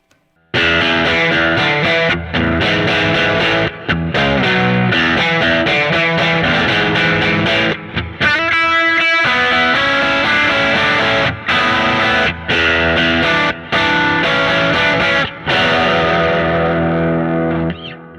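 Electric guitar on the bridge pickup played through a Line 6 Helix with a distorted rock tone, loud sustained chords and riffs with brief stops, running alone for about seventeen seconds.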